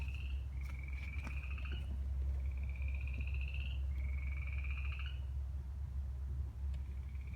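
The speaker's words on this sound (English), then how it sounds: "I hear the frogs getting quiet." Frogs croak at night in a rural nature setting, repeated rising calls coming in steady pulses over a low rumble of background noise, moderately close and fairly loud.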